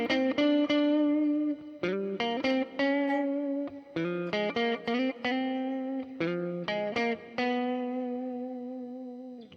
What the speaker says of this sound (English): bringing in reverb to let you hear what reverb we have here